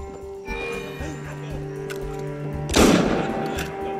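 Gunfire in Assassin's Creed Unity bursts out suddenly over sustained game music tones, with a few softer thuds before it.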